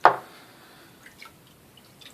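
Excess water drips from a wet shaving soap puck, a single clear drop at the start followed by a few faint, scattered small drips in a quiet setting.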